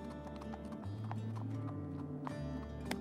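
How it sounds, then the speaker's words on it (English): Wild horses in the Namibian desert, their hooves clip-clopping in a loose, uneven rhythm at moderate distance over a low, steady wind-like rumble. "Wild horses."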